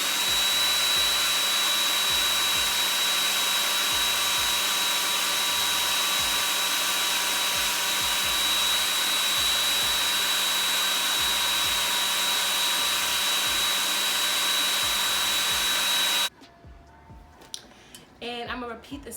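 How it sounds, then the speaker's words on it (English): A blow dryer on its cool setting drying hair lace runs as a loud, steady whine for about sixteen seconds, then cuts off abruptly, followed by brief quiet handling noises. "I'm gonna use my blow dryer on the cool setting."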